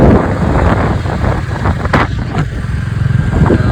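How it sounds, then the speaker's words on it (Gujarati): A motorbike on an early-morning road trip runs with a low engine drone under strong wind buffeting the microphone, loud and continuous throughout. "બાઇક ચલાવે"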